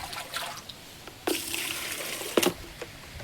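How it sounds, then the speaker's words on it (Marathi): Cloth being rinsed and wrung in water after cleaning a bicycle, with soft trickling and dribbling and a couple of louder splashes standing alone, no talk. "पहिल्यांदा तर मला कापड धुवायला पाहिजे."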